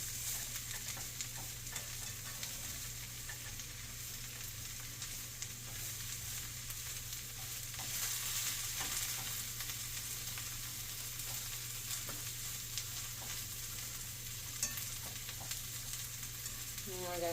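Soy curls sizzle and fry in a pan for vegan teriyaki, a soft steady crackle with occasional stirring scrapes, fairly quiet and close with no talk.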